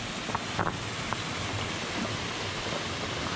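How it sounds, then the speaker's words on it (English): A waterfall at a mountain water crossing on a Mount Madison hike, heard as a constant broadband rush with brief faint knocks near the start. "this is that water crossing with the waterfall."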